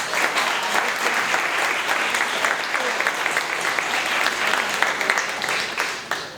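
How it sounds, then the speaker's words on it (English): An audience at a community event gives a loud, sustained round of applause, dense clapping from many hands holding steady throughout with a few voices faintly mixed in. "give them another round of applause for everything"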